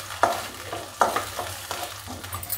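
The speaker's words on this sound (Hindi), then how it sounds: "अब हम इसमें ऐड करेंगे टमाटर, मिक्स कर देंगे अच्छे से।" Onions browned golden and fresh tomatoes stirred together in a pan for a Maggi masala noodle dish, with a few sharp scrapes and clatters of the spoon over a soft, steady sizzle, close and alone.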